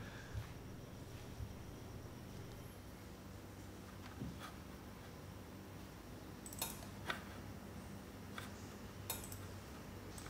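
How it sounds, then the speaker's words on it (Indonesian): A Gainward GTX 1660 Super Ghost OC graphics card's cooling fan spins at idle, giving a faint, steady airy whir with a few light ticks. No voices are heard. "saat idle atau saat tidak digunakan apapun, GPU-nya masih memutarkan kipasnya dan tidak bisa memberhentikan kipasnya"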